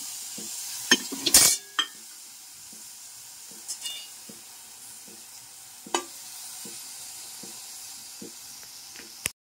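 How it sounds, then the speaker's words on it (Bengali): Washed neem leaves are dry-fried in a pan without oil. A faint crackle runs under sporadic light stirring taps, with one loud clatter early on and no voices. "নিয়ে এবার আমি ভাজবো নিম পাতাগুলোকে। তেল দেবো না, তেল ছাড়াই আমি ভাজবো"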